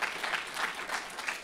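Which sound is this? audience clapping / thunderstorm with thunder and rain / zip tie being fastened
audience clapping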